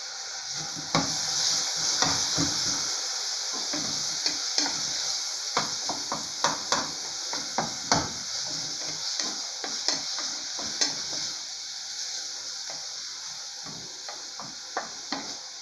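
Chopped onion and garlic fry in a hot pan for macarrão com sardinha: a steady close sizzle runs throughout, with light scraping taps from a stirring utensil at irregular intervals.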